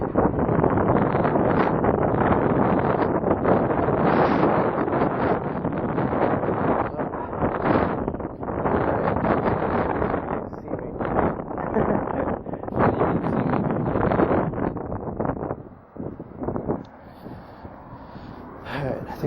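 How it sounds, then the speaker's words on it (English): Strong wind blasting straight into the microphone, a heavy, continuous roaring rumble that surges and dips with the gusts, loud and close, easing slightly near the end. "I thought I'd illustrate how windy it is"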